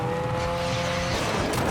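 Cars race and crash in a junkyard joust, including a McLaren and a car called Boombox, with a loud engine roar, rough grinding and a brief sharp burst near the end.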